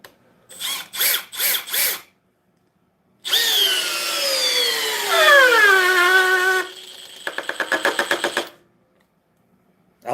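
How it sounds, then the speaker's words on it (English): A Milwaukee compact drill on a fully charged 2 amp-hour battery: three short close bursts, then a long whining run that slows and drops in pitch under load before stopping, followed by a quick rattling clutch-like ratchet. "We're going to throw a 2 amp hour battery. It is fully charged on the Milwaukee compact drill."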